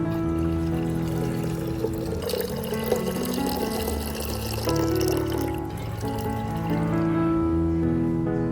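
Water pours steadily into a potato, rice and turmeric solution to dilute it, a continuous close splashing fill lasting several seconds over soft background music.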